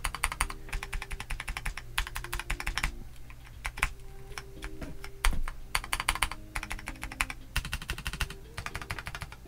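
Typing on a MelGeek Modern97 mechanical keyboard with a PC plate, a fast, dense run of crisp clacks in close bursts with short pauses, steady and moderately quiet with no voices.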